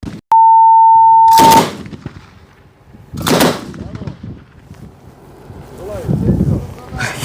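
Machine gun fire on a military training range: a high beep, then a few loud, sharp blasts separated by gaps, with voices murmuring between them.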